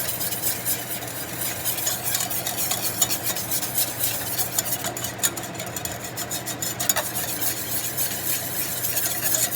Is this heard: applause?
no